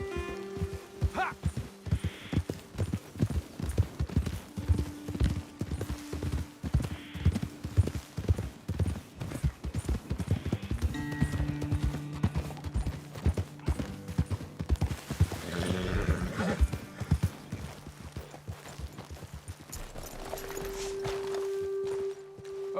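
Horses' hooves clip-clop steadily on the ground in Red Dead Redemption 2, a rhythmic walking gait with occasional snorts and creaks of tack, close and fairly loud, with a short stretch of talk partway through.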